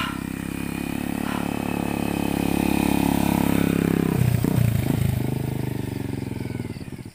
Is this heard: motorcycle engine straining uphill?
yes